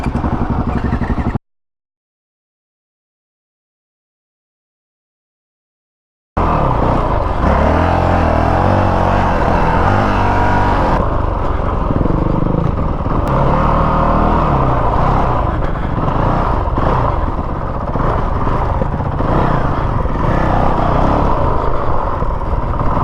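A 2019 450L supermoto motorcycle engine running loud and close, with a steady rough drone and shifting revs, interrupted near the start by a few seconds of dead silence.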